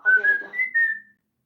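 A single person whistles a short melodic phrase of a few sustained, sliding notes, clear and close with no other sounds around it.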